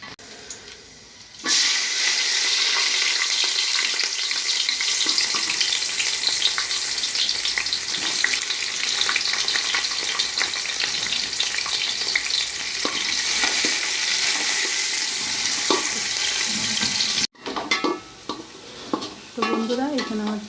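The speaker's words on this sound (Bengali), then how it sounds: "পেঁয়াজটা ভাজা হয়ে গেছে" Onions frying in hot oil with three bay leaves for a vegetable biryani, a loud steady sizzle with stirring scrapes running throughout, a brief break near the end before the frying resumes.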